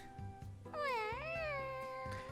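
Cat meowing in the ToHeart visual novel video game: a few short chirps, then one long, clear, rising-and-falling meow, loud and close with soft game sounds underneath and no talk.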